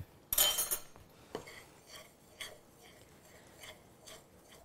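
A utensil clinks against a bowl while stirring fritter batter of flour, baking powder and beaten egg, starting with a loud scrape and settling into soft, irregular taps.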